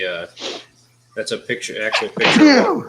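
A single sharp human sneeze bursts out near the start, followed after a short pause by close conversational speech from a man at a casual coffee-time chat.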